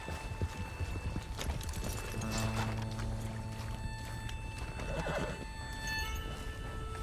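A horse whinnies loudly over a steady clip-clop of hooves in Red Dead Redemption 2 on PS4, with a faint background drone and game ambience throughout.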